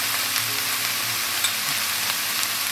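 Kang kung frying over high heat with chilli and turmeric powder, a steady dense hiss of hot oil close up, with no talking.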